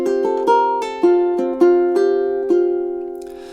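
A plucked ukulele plays a melodic phrase of bright single notes at an even, moderate pace, each note ringing and decaying into the next, heard clearly on its own.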